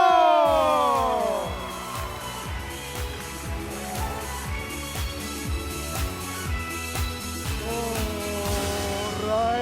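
A talent-show semifinal audience in a studio breaks into an ovation: a steady, loud wash of crowd applause with scattered whoops and shouts, running continuously under swelling music.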